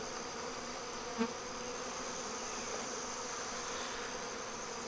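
Honey bees buzz in a thick, constant swarm hum while brood frames are handled and moved, with one soft bump early on and no speech.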